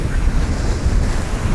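Steady roaring rush of wind and ocean waves in open, choppy sea while riding an electric hydrofoil board, loud, constant buffeting over the microphone with no clear talk.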